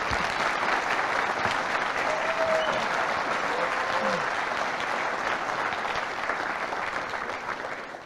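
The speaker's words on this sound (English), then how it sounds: "let's just give them another round of applause because they really deserve it" An audience claps in another round of applause, dense and continuous for several seconds, holding steady before easing slightly toward the end.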